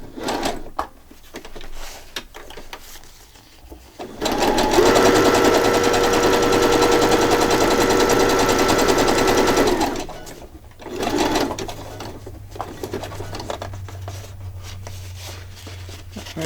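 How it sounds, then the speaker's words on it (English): A sewing machine stitches through paper in an altered book journal: one long, steady mechanical whir lasting several seconds, with shorter bursts before and after, close up and with no talking. "I'm just sewing all over the place here with craziness"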